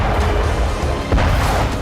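A deep explosion from war news footage, a loud continuous low rumble with a sharper crash-like burst partway through and no clear voices.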